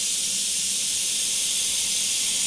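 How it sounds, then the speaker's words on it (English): Steady airbrush hiss of white paint being sprayed, a continuous broad, airy rush held evenly throughout without pauses, close and moderately loud, with no talking. "Now using my airbrush with that white, I just want to aim the airbrush at that center section"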